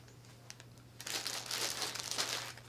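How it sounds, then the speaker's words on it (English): Plastic bag holding newly bought yarn crinkles in a burst of rustling that starts after a quiet second and runs on, close and fairly loud, with no talking. "More crinkling sound, I'm sorry."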